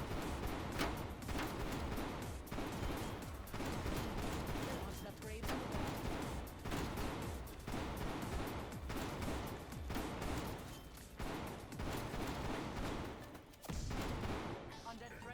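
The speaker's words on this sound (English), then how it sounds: "I try to shoot no more than 4 bullets at a barrier before turning to the next one." Rapid, continuous gunfire in a video game as rounds are fired at barriers, dense bursts of shots with thuds running nearly nonstop throughout, loud and close.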